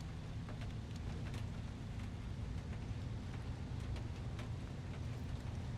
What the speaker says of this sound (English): Got some rain going on.